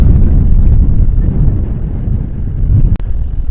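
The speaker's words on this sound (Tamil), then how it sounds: "செம காற்று." Strong wind blasts across the Langkawi Sky Bridge, a loud continuous low rumble buffeting the microphone, with a brief clack near the end and no talking.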